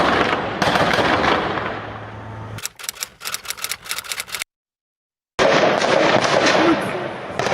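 Heavy gunfire from Hamas fighters at Israeli soldiers in Gaza, rapid close bursts, a quick rattling run of shots between loud noisy stretches, broken by a brief cut to silence.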